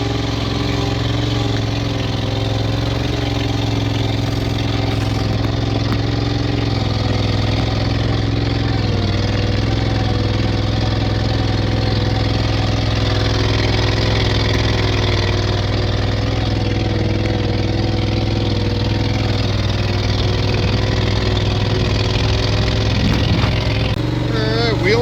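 A golf greens mower engine runs steadily throughout, a loud, constant mid-pitched drone with little change in speed from start to finish.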